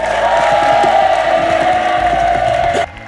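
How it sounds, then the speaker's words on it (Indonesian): A TV game-show studio audience claps and cheers for the panelists, a loud, dense wash of applause and whoops over a sustained musical tone, cutting off abruptly near the end. "tepuk tangan dulu buat para panelis."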